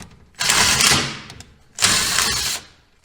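A powered driver sinks a self-tapping screw into a tailpipe hanger mount on a GMC/Chevy stainless exhaust install, two loud, close whirring bursts separated by a short pause.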